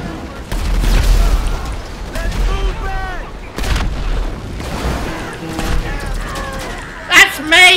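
Gunfire in GTA Online, heavy bursts and booming shots close by, mixed with excited voices talking over the shooting.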